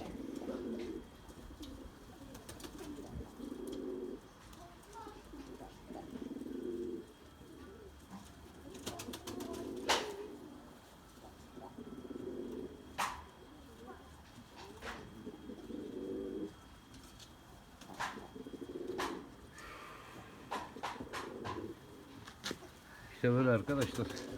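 Limoni pigeons and their young in a loft, cooing in repeated low, rolling bursts with occasional sharp clicks and flaps; someone talks at times between the coos.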